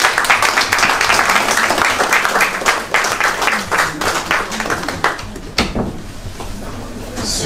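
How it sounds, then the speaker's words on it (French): Mourners at a funeral clapping in a loud, sharp round of applause that slows and thins after about five seconds, ending with a dull knock and quieter room noise. "Si on peut applaudir."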